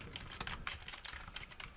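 Quiet, close computer keyboard typing from someone writing code, with a quick irregular run of soft keystrokes under a low background hum.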